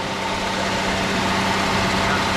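A Jeep CJ7 Wrangler, just brought back to life after a battery recharge, idles loudly and close, a steady low rumble with no change in pace.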